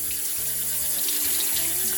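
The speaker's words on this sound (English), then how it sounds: "So just let the water kind of run through it a little bit." Hot water runs steadily from a tap through dirty brushes as they are rinsed clean, a continuous close splashing hiss without pause.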